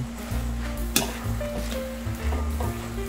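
Pork igado with bay leaves simmering in a pan, a close, steady low sizzle with a constant hum beneath and an occasional faint clink, with no one talking.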